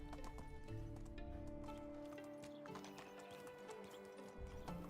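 A horse in the medieval village-building game Medieval Dynasty trots with a steady clip-clop of hooves and a whinny, set against a constant droning game soundscape, fairly quiet and without clear talk.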